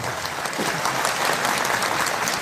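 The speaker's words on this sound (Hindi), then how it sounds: "जोरदार ताली बजा करके स्वागत करो।" A large crowd applauds loudly and steadily to welcome a group of daughters chosen for a mass wedding at a Bageshwar Dham gathering, with dense continuous clapping throughout and no talk.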